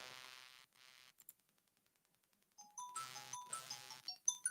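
A phone rings during a boxing talk show, its electronic ringtone melody coming in as a series of bright, repeating tones after a near-silent gap, faint and fairly close.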